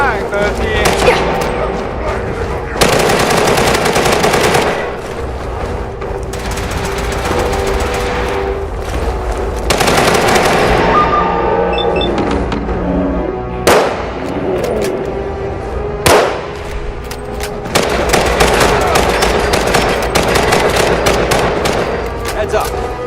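Bursts of enemy automatic gunfire in Fallout 4, loud rattling volleys broken by short pauses and sharp booms, with a player's voice chattering over the firefight.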